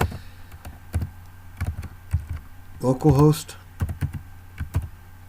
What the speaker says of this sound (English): let's go ahead and type HTTP